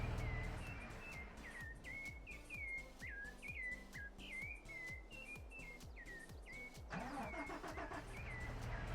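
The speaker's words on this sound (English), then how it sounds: "Did it start that tractor?" A tractor engine in Farming Simulator 22 cranks and catches, its rhythmic mechanical chugging running under game birdsong that chirps repeatedly throughout, and a louder rise near the end.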